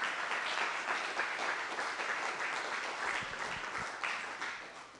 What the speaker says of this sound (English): can we give a nice, warm round of applause for our panelists?